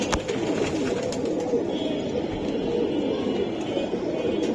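Large Giribaz pigeons at a market coo in a low, continuous murmur close by, beneath a steady bed of background noise, with no clear talk.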